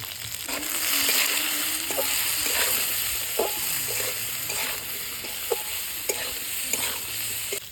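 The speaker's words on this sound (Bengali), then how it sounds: "আলু বেগুন কষানো হয়ে গেছে" Eggplant and potato pieces fry in a pan with salt and turmeric, giving a steady close sizzle. Repeated scraping stirs with a utensil punctuate the frying.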